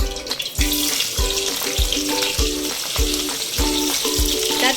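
Green chilies spit and sizzle in hot oil in a kadai, a loud close crackle with sharp rhythmic pops and stirring strokes repeating about every half second.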